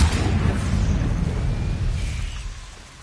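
A loud, close fiery blast from the Confringo spell in Hogwarts Legacy, bursting at once and rumbling broadly before slowly fading away over a few seconds, with no talk over it.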